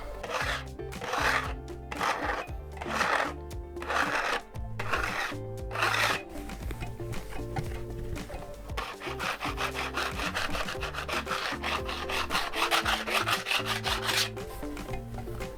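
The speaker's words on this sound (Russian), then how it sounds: "Я поглаживаю и начинаю уже слегка подполировать предыдущие участки." Steel trowel gliding over Venetian travertine decorative plaster, lightly polishing the previously worked patches in rhythmic back-and-forth scraping strokes that become a continuous, close rasp.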